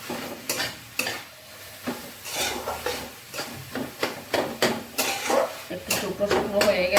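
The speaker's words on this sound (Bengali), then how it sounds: "পনিরটা কড়াইতে দিয়ে দিলাম" Paneer filling for patisapta fries in a wok, a soft sizzle running under repeated scraping and clanking of a spatula against the pan as it is stirred, close and fairly steady.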